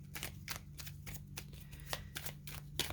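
A tarot card deck shuffled by hand on a table, giving a run of quick, crisp riffling bursts in a steady rhythm, close up and fairly quiet, with a faint low hum underneath.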